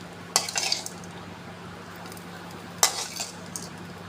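Tempering is added to coconut chutney in two short bursts: a sharp sizzle and clink of the pan, then a brief stir, with quiet kitchen hum between.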